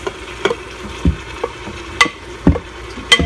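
Ham sautés in a pan for red beans and rice, with a low sizzle and a utensil tapping and scraping against the pan several times in an uneven rhythm.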